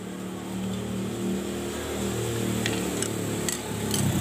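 Honda Beat Pop scooter engine running again after a restart, a steady mid-pitched idle hum with a few light ticking clicks near the end, close and continuous, no talk.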